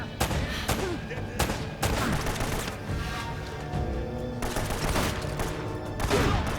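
Shotgun blasts and gunfire from the action game Uncharted: Drake's Fortune, a string of loud sharp shots spaced a second or so apart, with other game noise continuing between them.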